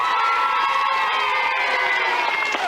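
Studio audience at a French children's television show applauding and cheering young contestants, a loud continuous roar of clapping mixed with excited shouts and whoops that fills the whole stretch.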